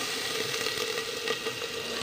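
Tomatoes with ginger-garlic paste roast in a pan with a constant, close hiss and sizzle that holds at an even level throughout.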